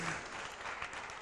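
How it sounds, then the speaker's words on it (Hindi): A seated congregation at a Jain religious discourse gathering claps together, a brief burst of dense applause that stays even and moderately soft throughout. "तालियां बजाइए स्वर्ण दान के लिए।"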